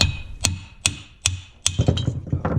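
Mallet blows knock a scooter crankshaft out of its crankcase during a replacement job: five sharp metallic strikes at a steady, unhurried pace, close and loud, each with a ringing tail. Looser clatter and handling noise follow the last one.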